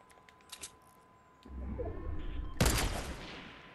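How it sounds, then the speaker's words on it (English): A single sharp sniper rifle shot in Fortnite cracks out loudly and close, following a rising swell of game noise, with faint ambient chirps earlier. "I'm going to snipe him."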